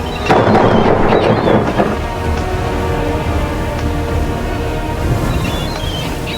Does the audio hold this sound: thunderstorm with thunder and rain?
yes